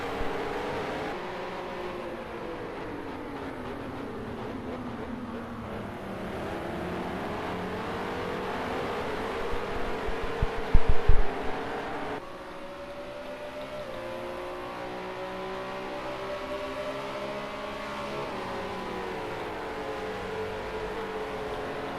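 Racing cars in the sim racing game Assetto Corsa drone and rev steadily, engine pitch sweeping up and down through gear changes, with a brief louder burst midway before the roar settles back to a constant hum.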